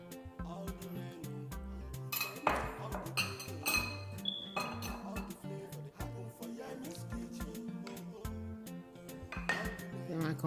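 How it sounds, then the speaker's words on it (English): Eggs are beaten in a bowl until almost white, a quick irregular run of clinks and taps against the bowl, fairly close, with tonal background sound underneath. "I'm going to beat it till it's almost white"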